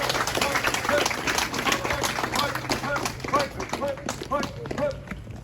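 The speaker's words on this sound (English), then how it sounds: "Let's give them a round of applause, please." Crowd applause at a Veterans Day ceremony outdoors, a steady run of many hands clapping with some voices mixed in, holding at an even level and easing slightly toward the end.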